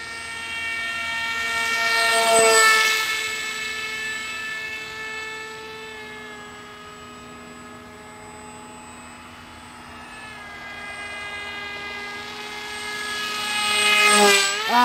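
An RC model of the Chinese J-20 jet flies past twice, its ducted-fan whine rising and falling in pitch as it sweeps close overhead, loud at each pass and softer in between.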